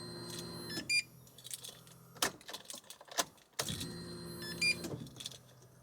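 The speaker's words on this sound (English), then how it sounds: "You hear that? So cycle the fuel pumps a few times." Fuel pumps in a Nissan S15 Silvia prime in two short cycles, each a steady electric hum lasting about a second, separated by clicks and small knocks, fairly quiet and close.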